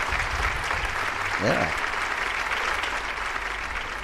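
Studio audience applause at a talk show, a steady wash of clapping that runs the whole time under a brief spoken word from a host.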